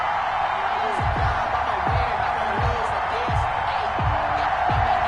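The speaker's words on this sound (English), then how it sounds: "they entered to the delight of this sold-out crowd" Sold-out stadium crowd in an EA Sports NFL video game, Bills versus Chargers, roars as a steady, dense wall of cheering, with repeated low thumping hits and a voice faintly present underneath.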